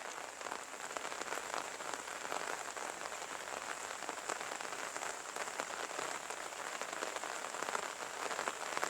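Steady rain pours on a surface in rural farm fields, a dense, even hiss of drops that holds without a break, moderately near and with no voices.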